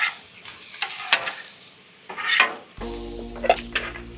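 Veggies are stirred on a Weber Slate 36-inch griddle for hibachi, with scraping spatula strokes and bursts of sizzling, followed by a sharp metallic clatter and ringing of utensils near the end.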